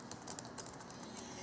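Quiet typing on the keyboard of a Dell Alienware M14x laptop, a faint, irregular run of soft key clicks against low background hiss.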